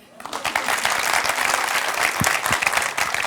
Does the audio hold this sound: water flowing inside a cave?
no